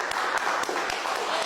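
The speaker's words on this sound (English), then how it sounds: "get a round of applause in the room," A room full of people gives a round of applause, steady close clapping with a few sharper individual claps, no talking over it.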